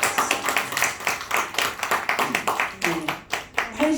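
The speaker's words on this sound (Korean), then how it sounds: "앞뒤로 박수" A church congregation claps in rhythmic bursts to welcome a new member at a Sunday worship service, close and lively, with a voice speaking over the claps toward the end.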